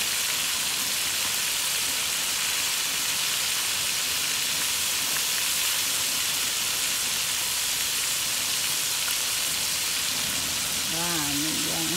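Crab frying in a pan with ginger and onion, a steady broadband sizzle that holds close and even throughout, with a brief voice-like tone near the end.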